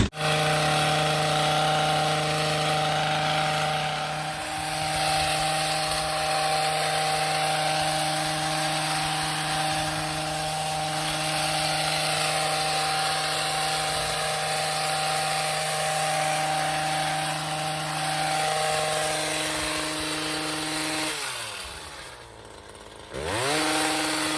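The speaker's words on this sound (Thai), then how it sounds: "เปิดเครื่องตัดหญ้าเดี๋ยว เราจะไม่ได้ยินค่ะ" A grass trimmer runs steadily while cutting grass in a garden orchard, a loud, continuous motor drone with a strong steady hum that holds for about twenty seconds before briefly dipping and revving near the end.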